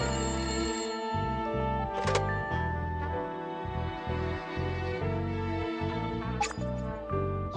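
A telephone rings in the video game Layton Brothers: Mystery Room, a steady run of electronic ringing pulses over a dense, continuous game-music background, loud and close throughout.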